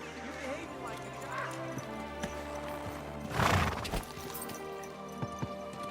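Horse hooves clip-clop steadily through a busy scene in Kingdom Come: Deliverance II, with a loud whinny near the middle over background ambience.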